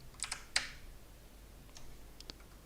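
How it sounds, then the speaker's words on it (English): Several quick key clicks on a computer keyboard while entering a word during a basic Japanese lesson, close and fairly faint, clustered at the start with a couple of isolated taps later and no talk. "I will type it in this way then."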